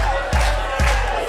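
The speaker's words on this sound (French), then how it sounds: "On les applaudit fort, s'il vous plaît." A lively crowd reacts at the end of an improv match during a national improv trophy final at Studio Marigny, with a noisy wash of applause and cheering punctuated by heavy, rhythmic thumps like stomping.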